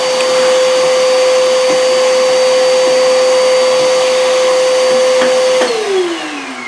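A loud, steady vacuum whine sucks sawdust out of a Wen 6-inch spiral cut jointer, holding constant for several seconds before winding down in pitch as the motor shuts off at the end, alone with no voices.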